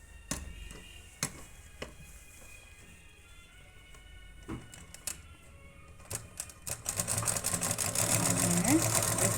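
Sewing machine stitching a readymade garment neck, heard as separate clicks and short bursts at first, then a steadier, louder mechanical whirr building toward the end, with a voice speaking over it.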